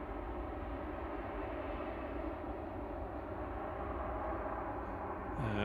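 A Ryanair airliner taking off at Manchester Airport in the evening, a steady loud roar of jet engines that holds constant throughout without any talk.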